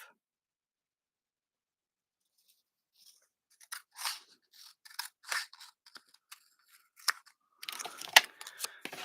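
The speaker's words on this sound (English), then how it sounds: "I think we will cut this in half" Scissors cutting card stock in half, a series of close, crisp crunching snips in short irregular bursts after a few seconds of silence, growing busier toward the end.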